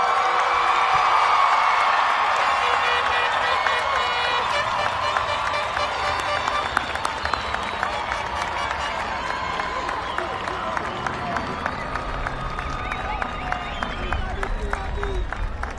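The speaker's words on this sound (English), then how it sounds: "Let's give the class of 2026 a big round of applause." Sustained applause with whoops and cheers from a high school commencement crowd for the graduating class of 2026, steady and dense throughout, fading slightly toward the end.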